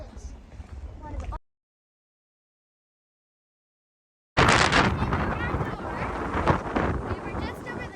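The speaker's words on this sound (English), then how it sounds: "it just became really, really windy" Strong wind buffets the microphone outdoors near the Colosseum in Rome, a loud, rough roar that cuts in after a few seconds of silence. A brief stretch of talk comes before it.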